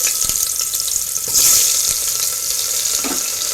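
Chopped onion hits hot oil and toasted cumin in a pressure cooker, giving a continuous close-up sizzle and hiss with a brief louder burst as the onion goes in.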